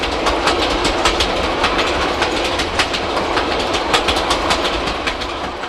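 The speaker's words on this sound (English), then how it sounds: "Now hauled by KA 936, J10 wheels at a mile a minute across the Manawatu plains." KA 936 steam locomotive hauling the J10 train at a mile a minute across the Manawatu plains, a dense continuous rolling roar with repeated clickety-clack wheel beats, loud and near throughout.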